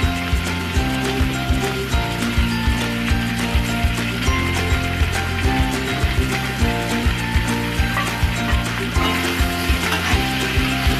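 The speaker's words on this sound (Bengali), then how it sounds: "এবার টুকরো করে রাখা শসাগুলো দিয়ে দেবো।" Cucumber pieces go into a pan of shrimp already being fried for a cucumber and potato curry, with a steady close sizzle and repeated scraping, clattering stirs throughout.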